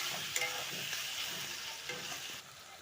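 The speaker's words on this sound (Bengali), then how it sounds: "এর মধ্যে দিয়ে দিব এখন আমি টমেটোটা দিয়ে ভালো করে এটা ভেজে নিতে হবে।" Tomatoes fry in a pan with turmeric, giving a soft continuous sizzle with a few brief scrapes and clicks from stirring, fairly quiet and close, with no talking.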